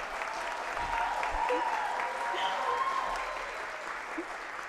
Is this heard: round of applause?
yes